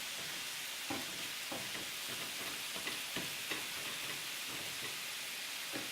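Spring greens with cabbage and leek sizzle and fry steadily in a pan, a constant loud hiss with occasional soft stirring taps and no talking.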